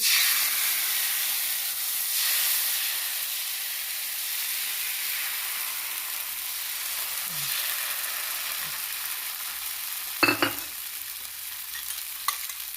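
Rava dosa batter with cumin sizzles steadily on a hot pan, a continuous soft frying hiss throughout with a few brief clatters near the end.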